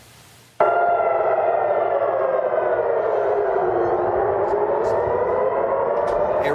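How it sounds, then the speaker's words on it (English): Air raid sirens in Tel Aviv and Jerusalem wail loud and sustained after a brief burst of noise, the long tone sliding slowly downward. "Air raid sirens rang out in Tel Aviv and Jerusalem this morning"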